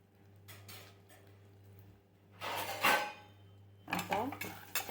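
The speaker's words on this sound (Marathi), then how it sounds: "आता थोडंसं हलवून घ्यायचं." Maize kernels stirred in a pot on a gas stove, giving several bursts of metallic scraping and clinking from a utensil against the pot over a steady low hum, close and fairly loud, with no talking.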